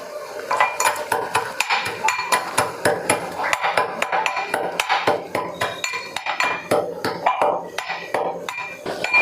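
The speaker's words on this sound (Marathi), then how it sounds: "खलबत्त्यात कुटतोय" Spices with a little sugar pounded by hand in a small mortar and pestle, a steady run of sharp, close knocks and clinks at a quick, even rhythm, with no voices.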